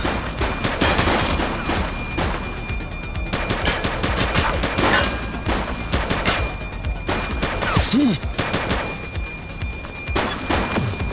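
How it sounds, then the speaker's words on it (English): Gunfire in The Precinct police game, repeated loud sharp shots and rattling bursts over several seconds, with thuds and background game noise and no talk. "He's shooting!"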